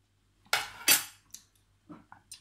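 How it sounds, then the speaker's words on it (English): A few quick metallic scrapes and clinks of a utensil stirring BBQ sauce in a pan, in short bursts with pauses between. "give that a little stir"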